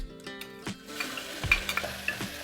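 Ginger, chili and garlic paste hits hot oil already holding mustard seeds, carom seeds, sesame seeds and asafoetida in a cooker, sizzling sharply while a spoon clinks and scrapes against the pot in quick irregular strokes.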